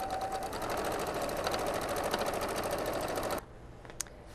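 A sewing machine runs steadily while stitching a fabric envelope, a fast, even mechanical whir with rapid needle clatter that stops abruptly after about three seconds, leaving a quiet room with a faint click.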